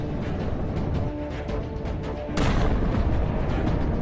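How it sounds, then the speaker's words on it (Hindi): Indian Army artillery gun firing shells along the Line of Control, a dense rumbling barrage of heavy booms with a sharper, louder blast about midway that raises the roar for the remainder. "देखिए कैसे ये तोप गोले बरसा रहे हैं"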